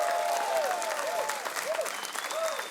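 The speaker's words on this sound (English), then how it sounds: "Once you cross that line, they give you the extra cheer." Crowd of spectators applauding and cheering at a disc golf hole during a women's pro tournament round, steady clapping wash with a whistle-like tone sweeping up and down several times, no talk.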